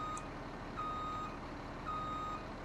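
Old truck in Farming Simulator 17 reversing, its backup alarm beeping twice at a slow, steady interval over a low engine rumble, fairly quiet and with no talk.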